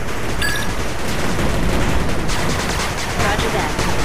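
Dense, continuous gunfire from units in the video game 8-bit Armies, a steady crackling barrage at high volume with no break across the few seconds.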